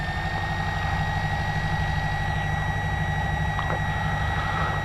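Piper PA28-161 light aircraft engine running steadily at about 1200 RPM, a loud continuous low drone with a fixed propeller hum heard from inside the cockpit, no talk.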